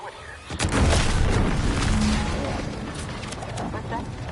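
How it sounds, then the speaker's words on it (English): A deep explosion booms in the Outer Worlds 2 video game, with a low rumbling blast that rolls out and slowly fades over a few seconds. "What's that? An explosion?"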